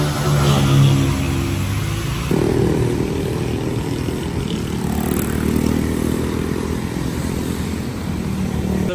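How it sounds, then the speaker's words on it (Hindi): Cars and motorcycles pass along a road in steady, fairly loud traffic, engines droning and swelling as vehicles go by without pause. "तो अभी आने लगी हैं गाड़ियाँ।"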